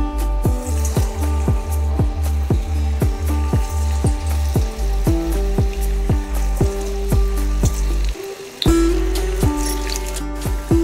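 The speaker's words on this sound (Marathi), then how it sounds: "छान असं वर खाली करत मंचुरियन छान तळून घ्यायचे आहेत।" Soya chunk manchurian balls deep fry in hot oil over a medium flame, giving a close, continuous bubbling hiss broken by rapid, regular popping ticks and a brief pause before the frying swells again.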